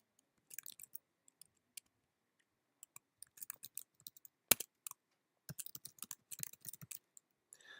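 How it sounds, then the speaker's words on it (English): Light clicks on a computer keyboard come in short, irregular bursts with gaps between them, faint and close, in an otherwise quiet room. "you simply start typing in the information that is required"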